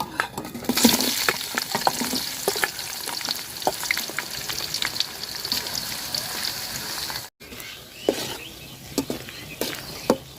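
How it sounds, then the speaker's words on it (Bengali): Onions, bay leaves, cardamom and cinnamon fry in hot oil for a beef curry, a steady close sizzle with scraping stir clatters throughout, briefly cut off near the end before resuming. "তো তেল গরম হয়ে গেছে তেজপাতা এলাচ দারচিনি এই যে গরম মশলা দিয়ে দিলাম পেঁয়াজ দিয়ে দিলাম"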